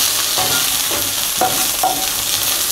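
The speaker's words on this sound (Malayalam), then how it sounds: "ഈ സമയത്ത് നമുക്ക് ആ പുളിയും കൂടെ ചേർത്ത് വഴറ്റി കൊടുക്കാം." Shallots and tamarind sautéing in a pan for a shallot chutney, a steady close sizzle with several stirring scrapes at regular intervals, no voices.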